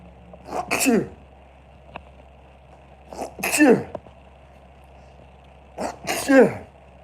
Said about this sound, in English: I'm about to sneeze here.